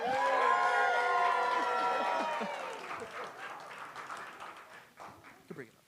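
An audience at a startup graduation event bursts into applause and cheers for a third-place winner. A loud shout rings out over the clapping at first, then the applause thins out and fades.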